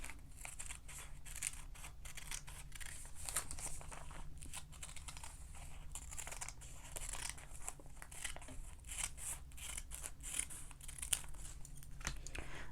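Scissors cut cardboard in quick repeated snips, joined by faint crinkling and rustling, recorded close and quiet with no talk, while a decorative hanging is being made.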